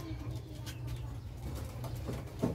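Pigeons kept for racing tosses in Pagsanjan, Laguna coo softly in low, repeated, throaty notes, faint against a background hum.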